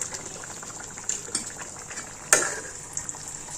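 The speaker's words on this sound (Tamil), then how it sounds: "இப்போ இது நல்லா கொதித்து நல்லா வெந்து வந்தோடனே" Coriander chicken gravy with a cup of yogurt bubbling in a pan, a soft steady simmer with faint pops and a sharper burst of sputtering partway through, fairly quiet and with no talking.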